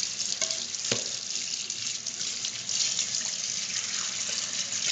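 A frying pan is rinsed and scrubbed under a running kitchen tap, with a steady, close rush of water into the sink and small knocks and splashes of the pan throughout.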